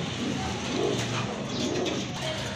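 Farm pigeons cooing softly over a busy background murmur, a few low throaty coos close by, no clear talk.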